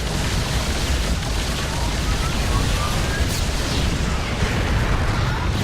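Yamato cannon blasts from a battlecruiser fleet in StarCraft, a dense, continuous roar of explosions and booming game battle noise filling the whole stretch at steady loudness.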